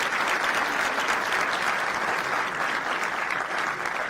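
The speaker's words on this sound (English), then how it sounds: "Give him a big round of applause" A university audience at Thapar Institute of Engineering & Technology welcomes alumnus Ankush Arora with sustained, dense, even applause, loud and unbroken throughout, with no talk over it.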